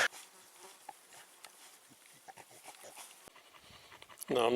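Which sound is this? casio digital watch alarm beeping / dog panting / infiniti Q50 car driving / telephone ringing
dog panting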